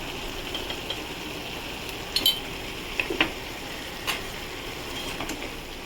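Snake gourd with turmeric powder being stirred in a pan: steady soft sizzle with a few sharp scrapes and clinks of a utensil against the metal, close and fairly quiet.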